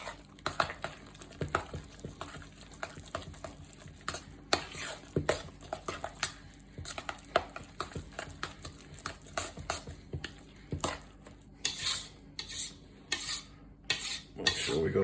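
Ingredients being stirred and mixed in a bowl, scraped in from the edges toward the center, giving a steady run of close scraping and clinking strokes with no talk.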